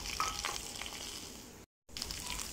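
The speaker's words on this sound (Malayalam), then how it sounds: "സബോള നമുക്ക് നന്നായിട്ട് ഒന്ന് വഴറ്റി എടുക്കാം നല്ല ഒരു ബ്രൗൺ കളർ ആകുന്നതുവരെ നമുക്ക് ഒന്ന് വഴറ്റി എടുക്കാം" Onions sautéing with curry leaves in a pan for fish mappas: a soft, continuous sizzle with faint stirring scrapes, briefly cut to silence before the frying resumes, no talk.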